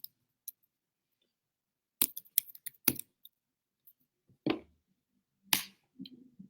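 Scattered keystrokes on a computer keyboard as a comment is typed during an online webinar, with a few isolated taps followed by short bursts and pauses, close and fairly quiet with no talk.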